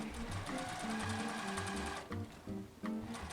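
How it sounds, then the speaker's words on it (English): A home sewing machine stitches a dress placket about an inch from the edge, its needle whirring in steady runs that pause briefly and restart near the end. "So we're sewing about an inch away from the edge here, trying to keep that nice and even"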